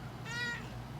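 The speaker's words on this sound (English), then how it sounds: "Cat screaming." A house cat gives a single short, clear meow, close by in a quiet room.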